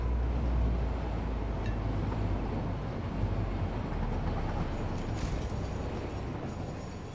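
A train arriving in the Satisfactory factory-building game, a steady loud rumbling roll of rail cars with a faint hiss on top, continuous throughout and with no talking.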